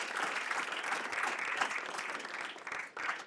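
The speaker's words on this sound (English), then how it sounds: "So can we give them a round of applause?" Award ceremony audience at the M3 Challenge finals giving a round of applause for host Jane Street, steady close clapping from many hands for a few seconds.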